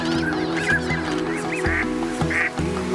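Northern pintail ducks on Pulicat Lake give repeated nasal honking and quacking calls, close and loud, several birds overlapping steadily with no voices present.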